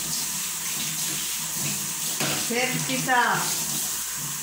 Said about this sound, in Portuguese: Aí eu limpo e depois eu jogo água quente, passo essa escovinha.